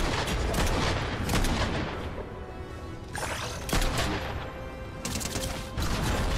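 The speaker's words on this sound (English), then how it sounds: "they completely no-sell the fact that you're shooting at them" Rapid bursts of gunfire from Fortnite play out as shots are fired at bots, loud close volleys stacking into fusillades with short gaps between them.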